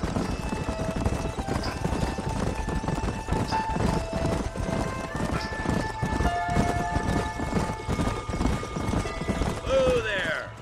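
Horse hooves clip-clop steadily throughout in the video game Red Dead Redemption, with a whinny near the end, under background music and some voices.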